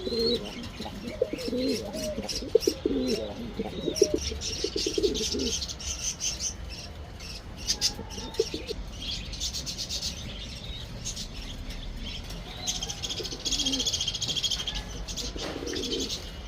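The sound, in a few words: pigeons cooing, pigeons for sale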